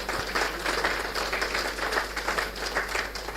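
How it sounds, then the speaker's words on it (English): Sustained audience applause for the speakers at a corporate governance conference, a continuous crackling spread of many hands clapping at moderate volume over a steady low hum. "Can we please give them a round of applause?"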